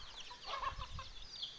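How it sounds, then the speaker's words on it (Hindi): Faint, distant clucking of hens and roosters against a quiet village outdoor background in the morning. "मेरे घर में बहुत सारे मुर्गियां हैं, मुर्गे हैं"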